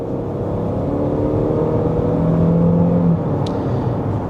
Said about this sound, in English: Now, let's get an acceleration here.